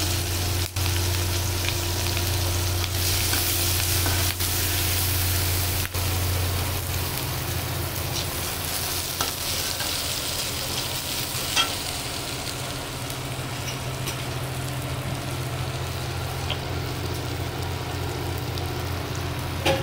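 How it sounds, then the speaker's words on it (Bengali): Chopped onion and green chili frying in mustard oil make a steady, close-up sizzling hiss for the full stretch, with a low hum underneath and a few faint clicks. "এখন আমি পেঁয়াজ কুচি দিয়ে দিতেছি, সাথে কাঁচামরিচ একসাথে দিয়ে দিলাম।"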